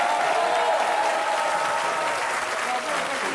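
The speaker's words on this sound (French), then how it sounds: "je propose un tollé d'applaudissements pour vous accompagner" A studio audience on the Belgian comedy show Le Grand Cactus bursts into loud, continuous applause and crowd noise for guest Elio Di Rupo, with some voices mixed into the steady roar of clapping.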